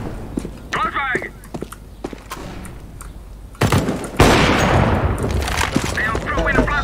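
A flashbang grenade goes off in CS:GO, a loud broadband burst arriving midway and ringing on under overlapping game noise, gunfire-like cracks and footsteps, with voices talking throughout.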